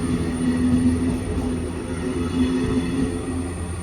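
An Ernakulam–Palakkad MEMU electric multiple unit rolls into Chowara station in Kerala, a steady mechanical rumble with a faint whining tone and light wheel noise, moderately loud and continuous with no talk.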